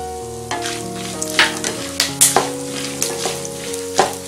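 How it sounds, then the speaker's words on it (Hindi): Curry leaves sizzle and crackle in hot oil over a medium flame while being stirred, giving close, lively frying with sharp pops and spoon scrapes, alone over a faint steady tonal hum. "इसे मीडियम आंच पर भुने और लगातार हिलाते रहें अब हम इसमें करी लीव डालेंगे"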